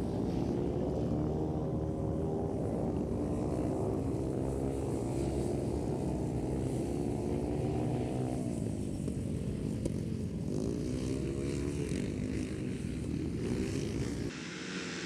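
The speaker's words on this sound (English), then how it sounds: "We've got people here on 250s, 350s and 500cc machines because this is grass track racing." Grass track racing motorcycles of 250cc, 350cc and 500cc roar steadily together, a loud, continuous, buzzing engine drone with rising and falling pitch as they race around the circuit, ending with a slight drop.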